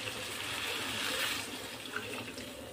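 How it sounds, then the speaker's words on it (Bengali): Water is poured into a pan of cooking bitter gourd, making a soft, continuous splashing rush at low volume with no other sounds. "এবার আমি জলটা ওর মধ্যে দিয়ে দেবো।"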